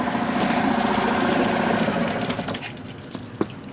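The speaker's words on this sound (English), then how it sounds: "let me just turn this outboard off" A yacht's outboard motor idles with a steady buzzing drone and sputters down to silence as it is switched off, leaving a faint knock at the end.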